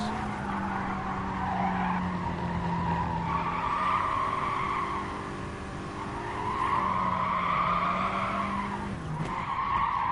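Race car tires squeal steadily under hard braking in Gran Turismo Sport, a sustained tonal screech over the engine's drone, loud and continuous with a brief break midway.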